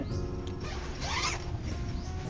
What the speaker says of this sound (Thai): จะเป็นซิปไทยแล้วก็มี2หัวสามารถรูดซ้ายขวา แบ่งแยกการทำงานของซิปเพื่อให้ใช้งานได้ยาวนานยิ่งขึ้น